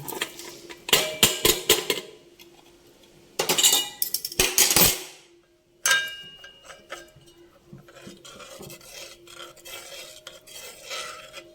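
Fried flattened rice is tipped into a pot of payasam, with bursts of rattling grains and metal spoon clatter against the pot, then quieter stirring and light scraping, close and irregular.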